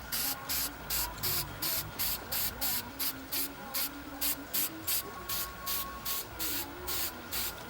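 Short bursts from a spray can lay a third coat of paint on a BMW E46 M3 roof rail moulding, about twenty quick evenly spaced hissing pulses in a fast, steady rhythm.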